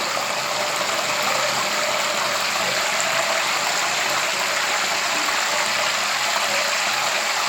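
Salted water spooned into hot oil where potato chips are frying gives a steady, loud, dense sizzle and crackle that holds evenly throughout without talk.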